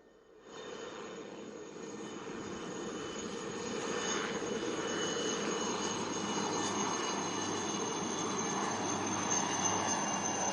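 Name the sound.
Chetak single-engine light utility helicopters flying past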